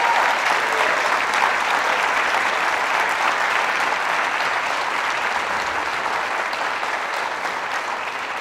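An audience in a gym claps for an honoree at a Lutheran West event, a dense, even round of applause that holds steady and tapers slightly over several seconds, with no speech.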